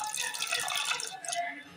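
A small splash of water is poured into a pot of mutton cooking with ginger-garlic paste, a short close trickle and gurgle lasting under two seconds.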